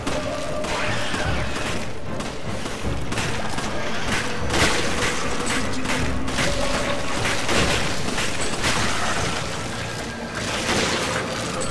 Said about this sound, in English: I don't know why I'm using a sniper rifle to kill him.